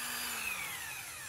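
A DCA ADPB20F cordless impact wrench with 650 Nm of bolt torque runs with a high, whining motor and a dense, rapid hammering buzz, loud and close, holding steady for the whole short burst.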